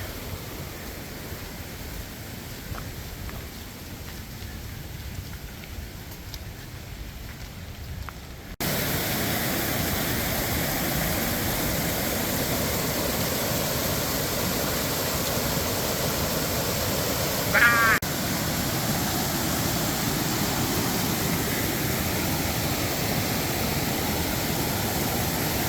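Steady rushing water fills the scene, a broad constant hiss of a fast glacial creek in Rocky Mountain National Park that grows noticeably louder partway through and stays even.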